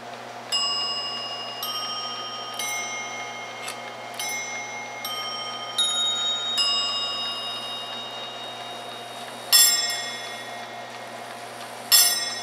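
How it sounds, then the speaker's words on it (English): A mechanical chime clock, its chiming released by an air governor, strikes a sequence of clear metallic bell tones, each ringing out and decaying before the next, with a couple of louder struck notes near the end, close and alone. "It's going to drop the rack, and then it will start chiming."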